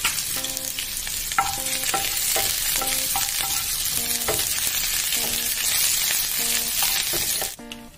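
Green chilies and ginger fry in hot sesame oil with popping mustard seeds, giving a steady, close, dense sizzle that runs throughout, with soft musical tones underneath.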